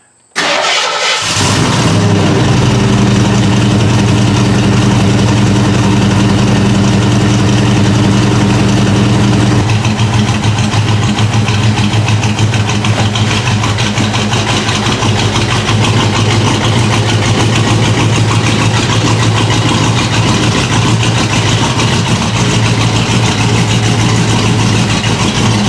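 A Foxbody Mustang that has sat unused for a while cranks briefly and fires, then settles into a loud, steady idle close by with a constant low rumble, no talking.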